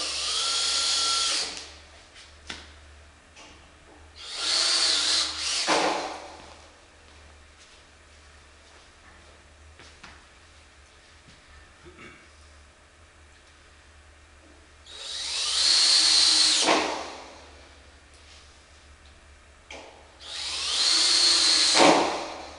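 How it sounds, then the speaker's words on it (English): A power drill drives screws into particle board while assembling mat stacks shelving, in four separate whining bursts of a few seconds each, separated by quiet gaps with light handling noises. "shoot 2 screws into the particle board in the front and the back"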